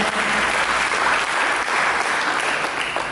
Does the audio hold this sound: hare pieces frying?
no